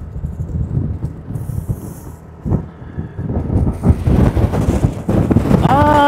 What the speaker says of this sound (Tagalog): hindi tayo makapagpalipad ng drone dahil sa sobrang lakas ng hangin